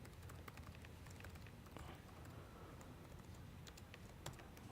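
Keystrokes rattle on a computer keyboard as a long string is typed into a Kafka producer at a developer conference talk, a steady stream of quick clicks over a low room hum.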